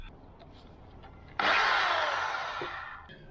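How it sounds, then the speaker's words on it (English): A large corded power drill bites in abruptly after a quiet start, a loud, close, steady whining grind that slowly fades over a couple of seconds before cutting off. "And I'm using a big drill now, not the battery drill."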